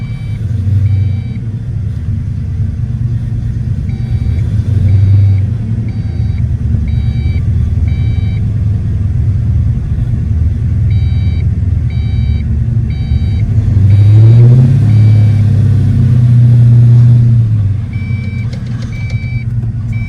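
Engine of a 1990 Ford Mustang GT idling on a cold first start, with a loud, steady low rumble that swells into a brief rev midway before settling back, alongside faint beeping tones.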